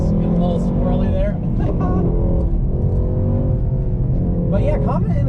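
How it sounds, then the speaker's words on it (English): A Mercedes AMG exhaust rumbles loudly and continuously under a person talking, with rising revs and a few sharp bursts near the end that suggest overrun crackles. "I'm just having a blast listening to this exhaust. And the overruns are something ridiculous"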